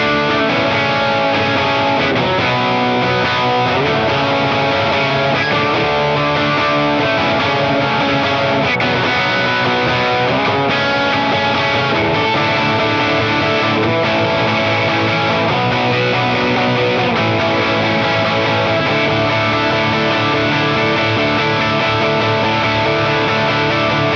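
Distorted electric guitar strums full bar chords through a worship song bridge, a dense, sustained wall of sound running steadily and loudly for the whole stretch with no talking.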